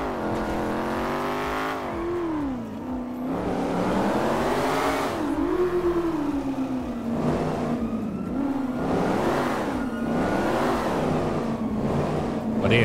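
Car engine in GTA 5 revving in repeated rising and falling surges, loud and continuous throughout with gear-like pitch sweeps.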